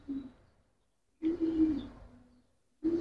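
Racing pigeons cooing close by, a few soft low throaty coos in short bursts separated by near silence.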